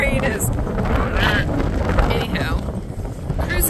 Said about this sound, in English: it's actually quite windy right now